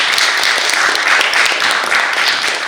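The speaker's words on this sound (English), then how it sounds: "I think we need to applaud the producer, the writer, and the actress." Film festival audience applauds a producer, writer and actress at CIFFA 2025, with dense, steady clapping from many hands that fills the room evenly throughout.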